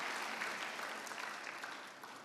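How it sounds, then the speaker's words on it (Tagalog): Loud, dense applause from a church congregation giving praise to God, sustained and even throughout with no talk over it. "Lahat po'y pumalakpak ng malakas sa mabuting Diyos."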